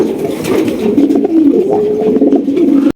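King pigeons coo in low, rolling murmurs, close and continuous, with soft rustling behind them.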